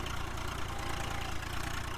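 Swaraj 735 tractor engine in Farming Simulator 19, a steady low idling rumble holding even throughout, with no talk over it.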